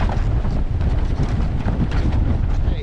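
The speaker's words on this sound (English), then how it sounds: "It's fairly windy." Strong wind buffets the microphone on a sailboat hove to at the mouth of the Blackwater, a loud and constant roar with no speech.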